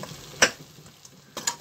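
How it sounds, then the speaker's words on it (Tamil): Masala sautés in a pan for brinjal drumstick chops, with two brief spatula scrapes over a faint background sizzle. "மசாலா வதக்கிக்கோங்க"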